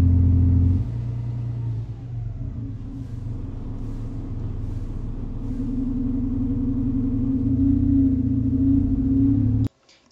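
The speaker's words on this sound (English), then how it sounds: "So you can hear that noise. That gargle is the compressor." Low, steady engine drone from a bus in a driving video game, with the air compressor's gargling rumble running underneath for most of the stretch before cutting off abruptly near the end.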